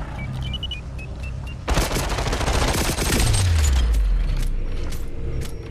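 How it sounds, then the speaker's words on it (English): Gunfire and a grenade blast in the VR shooter Population: One, a sudden loud burst of crackling shots that swells into a sustained rattle and rumble, with a deep falling boom trailing off underneath. "They shot a grenade."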